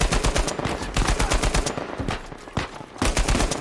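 Rapid, loud gunfire from a firefight in Uncharted 4: A Thief's End, with dense bursts of shots and short pauses between volleys.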